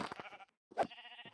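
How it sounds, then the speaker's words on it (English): Minecraft sheep let out two quick bleats in the game world, separated by a short pause, the second one longer and wavering. "Ooh, is that another sheep?"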